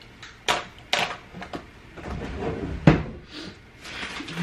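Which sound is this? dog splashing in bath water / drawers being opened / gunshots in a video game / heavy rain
drawers being opened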